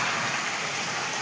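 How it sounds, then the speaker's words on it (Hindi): Heavy rain pours down in a continuous, loud, even hiss and roar with no breaks and no voices. "ବହୁତ ଜୋର ବର୍ଷା ଆଜି"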